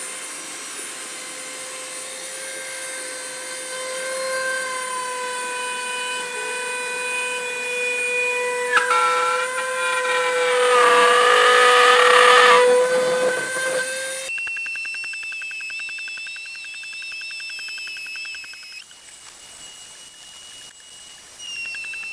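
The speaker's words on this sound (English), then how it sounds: "So I'm going to trim just about a ½ inch from that curve there." A power tool cutting into the plastic bumper of a Chevrolet Suburban 2500, a steady high-pitched whine that shifts pitch and grows harsher while cutting, then jumps to a higher, thinner tone, close and continuous without talking.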